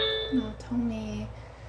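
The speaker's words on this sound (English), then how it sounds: "who rings the bell that much when it's almost midnight?" Doorbell chime sounding near midnight: a quick two-tone ding-dong rings out indoors over a low background hum, with no voices.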